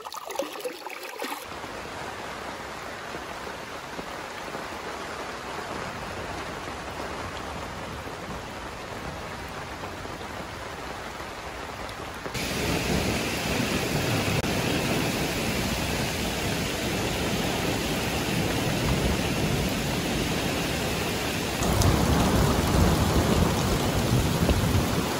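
Steady heavy rain pours down outdoors at a Polish smallholding with a pond, a dense hiss that grows louder partway through and surges again near the end, with thunderstorm rumble folded into the wash and no voices.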